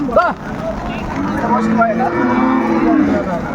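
A dairy cow moos nearby at a cattle market, a drawn-out low call, with people talking over it and steady outdoor background noise.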